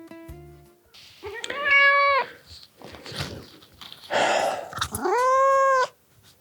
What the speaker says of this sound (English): And this is my 11-year-old Nala, who was meowing downstairs, because she wanted me to play with her toys